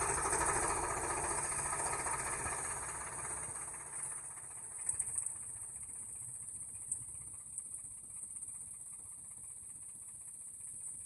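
A tractor with a trolley hitched behind runs at idle during the wheat harvest, a faint, steady engine drone that fades slightly after the first few seconds, with a few light knocks.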